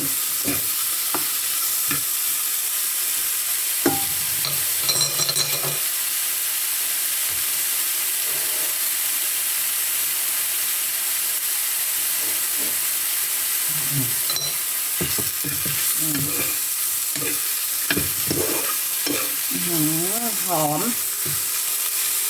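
Fish stir-fried with holy basil and sesame oil in a hot pan, a continuous sizzle broken by scraping stirs and clattering utensil strokes, with louder tossing bursts near the end.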